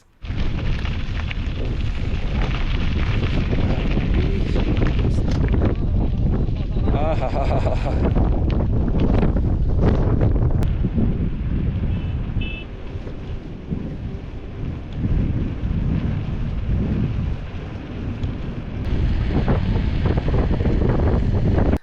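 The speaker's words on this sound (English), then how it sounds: "The wind was fierce and the cycles danced across the road" Fierce wind buffeting the microphone while cycling across the high-altitude More Plains, a loud continuous roaring rush that dips briefly and surges again.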